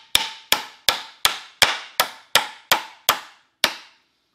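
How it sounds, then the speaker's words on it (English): A hammer drives nails into a wooden bench with nine sharp, ringing strikes at an even pace, the last coming after a slightly longer pause. "we'll go ahead and we'll nail that up"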